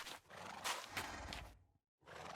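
A horse in a video game gives a loud, close whinny followed by rough snorting. The sound breaks off into a brief silence, then resumes.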